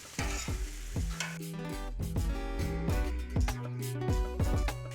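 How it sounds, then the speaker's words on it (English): Onions, poblano chiles and mushrooms sizzle loudly on a grill while being turned, with repeated scraping and clattering of a utensil over a steady hiss, close up and without talk. "It's time to turn the onions."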